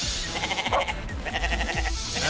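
A goat in the game Animal Fight Club bleats in a shaky, wavering cry amid a busy, pulsing game soundscape of thuds and rhythmic impacts.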